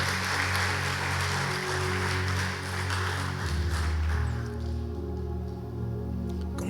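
Church congregation applauding during a Sunday worship service, a steady broad wash of clapping mixed with sustained organ-like music tones that thin out toward the end.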